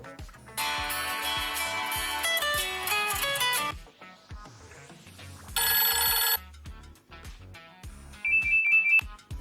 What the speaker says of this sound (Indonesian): Di sini juga ada nada dering 3D